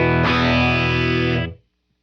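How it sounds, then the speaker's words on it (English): A UAFX Astra pedal set to its Phaser X90 effect colours a sustained electric guitar chord, loud and steady for about a second and a half before cutting off cleanly, with no talk. "So this one is the Phaser X90."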